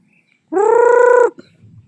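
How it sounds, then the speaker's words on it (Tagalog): A single drawn-out, nasal honking call from a farm duck, lasting under a second, close by, followed by faint rustling. "Yung mga pato, bibi."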